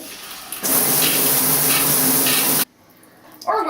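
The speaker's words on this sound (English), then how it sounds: "Or when taking a shower." Water from a shower sprays steadily for about two seconds, a loud close hiss that stops sharply and leaves quieter room sound behind.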